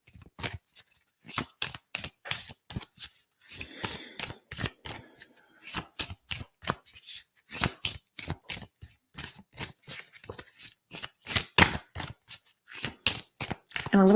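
A deck of chakra cards is shuffled by hand in a long run of sharp, rhythmic slaps and flicks, close and fairly quiet, repeating steadily with brief pauses and no speech.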